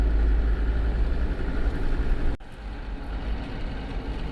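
A Land Rover Defender engine drones steadily as it climbs a steep single-track road on the Drumbeg Loop in Scotland, a low continuous hum heard from inside the cab, dipping briefly partway through.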